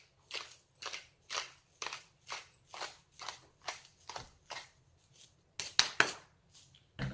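Pink Himalayan salt crushed in a hand grinder, a steady run of about a dozen short gritty crunches at an even rhythm, close and fairly quiet, ending in a few quicker, sharper grinds.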